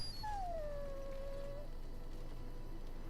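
A dog whimpers in the video game Dragon Age: Origins, one drawn-out falling whine near the start over a low steady background, then quiet.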